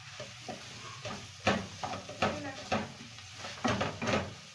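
A spoon stirs and mixes chicken and boiled potato filling for cutlets in a cooking pot, giving repeated scraping knocks at an uneven rhythm over a soft sizzle, with a voice talking at times.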